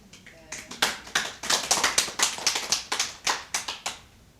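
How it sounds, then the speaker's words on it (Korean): A small group claps during a Buddhist dharma talk at a meditation center, a handful of close, distinct, sharp claps in an uneven rhythm over a few seconds. "자, 박수 해드려."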